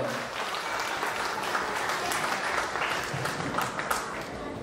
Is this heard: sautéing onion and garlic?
no